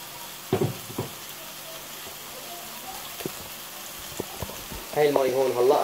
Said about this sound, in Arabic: بعمل هيك بنزل الفليفلة عليها فورا